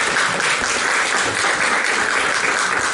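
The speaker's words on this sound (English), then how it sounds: "let's give them a round of applause" Conference audience applauding as panelists come on stage at a digital-creation summit, a loud, dense, even roar of clapping from a large crowd, unbroken for the whole stretch.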